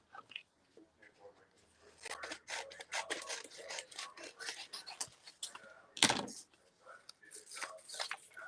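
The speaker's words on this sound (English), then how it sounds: "Let's cut some of this out." Scissors snip through paper for a craft card, giving a run of close, irregular crisp cuts and rustles with a louder scrape partway through, with no talking.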